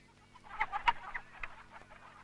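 Chickens clucking in a rural setting, a few short irregular bursts of clucks at close range with a brief louder peak, then quieter scattered clucks, with no talking.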